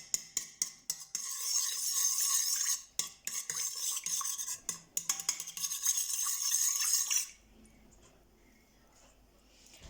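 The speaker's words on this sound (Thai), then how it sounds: "แล้วก็เคี่ยวกะทิก่อน" Coconut milk for Thai green curry simmering in a pot while being stirred, with loud, busy scraping and clinking of a utensil against the pot for about seven seconds, then a near-silent lull.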